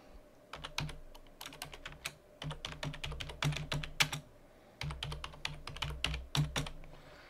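Code is typed on a computer keyboard in quick, close bursts of sharp key clicks, with short gaps between runs of keystrokes and no voices.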